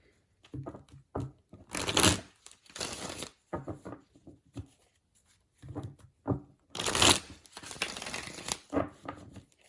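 Tarot cards being shuffled in repeated bursts of crisp riffling and flicking, with short pauses between, close and fairly quiet.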